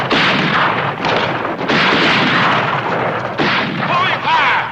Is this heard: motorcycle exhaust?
no